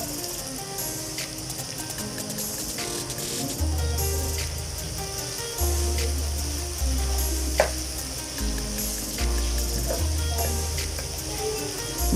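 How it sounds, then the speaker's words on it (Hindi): Boiled beef sizzling in a karahi, a continuous bright frying hiss with occasional clinks and stirring scrapes, while a low background hum comes and goes. "अब हम इसमें बॉईल किया हुआ गोश्त डाल देंगे।"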